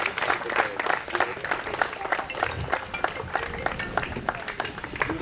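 A crowd at a cricket league opening ceremony claps for a team owner during a jersey handover, a dense, steady patter of hands that is close and fairly loud throughout.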